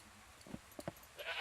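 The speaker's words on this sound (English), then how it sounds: "That's how you pick up a goat." A goat in the Wartile video game gives a few short, faint bleats, brief separate calls over a quiet background, followed by a soft rising hiss.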